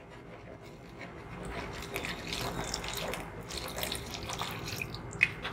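A faint, steady pour of water into thick pakora batter, with a soft splashing trickle and a small clink near the end.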